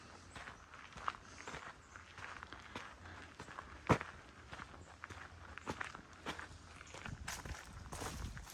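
Footsteps on a hiking trail, irregular crunching steps with occasional sharper scuffs and one louder impact, fairly close and moderately quiet, with faint outdoor rustle between them.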